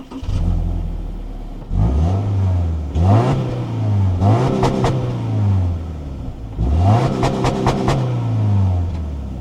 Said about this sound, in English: Let's see what that engine sounds like.